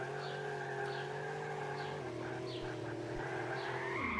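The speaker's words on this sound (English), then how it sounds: "This isn't really racing. This is just drifting." Tires squeal as a car drifts in the racing game Drift Racing Madness, a steady engine drone running beneath a sustained, continuous skid for the whole stretch.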